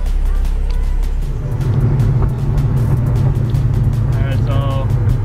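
A Nissan 370Z being driven, heard as a steady, loud, low engine drone and road rumble that runs unbroken through the whole stretch.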